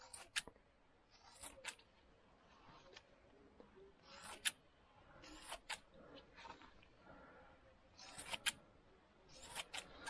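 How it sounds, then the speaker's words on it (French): Thinning scissors snip through motorcycle exhaust silencer wool during a repacking job, giving quiet, crisp cuts in small irregular clusters against a near-silent workshop background. "Donc voilà pourquoi il faut des ciseaux à dents."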